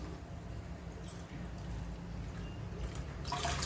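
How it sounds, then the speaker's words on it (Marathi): Water pours from a bowl into a cooking pot holding sugar for ras malai syrup, a steady close liquid rush that swells brighter near the end. "आपल्याला 5 वाटी पाणी ओतायचं आहे"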